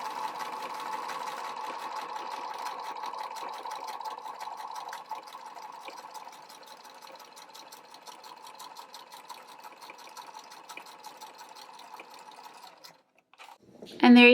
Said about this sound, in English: I'm going to go ahead and stitch my second row.